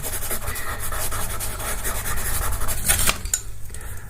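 Pencil rubbed across a portrait drawing of Marilyn Monroe to blend the black shading: a steady, close, dry scratchy rubbing that continues throughout, ending with a few sharper scrapes.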